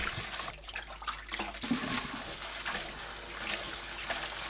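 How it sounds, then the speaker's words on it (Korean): Soaked dried zucchini strips rinsed by hand in clean water, a continuous close splashing and sloshing of water with no voices. "조물조물 깨끗한 물에 3-4번 헹굽니다"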